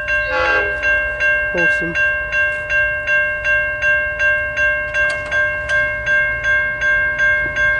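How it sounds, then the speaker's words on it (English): A Warrnambool freight train passes under Marble Street Bridge with a steady clickety-clack rhythm of wheels over rail joints and a sustained horn tone. It is loud and close, and someone speaks briefly over it. "Here comes the Warrnambool freight."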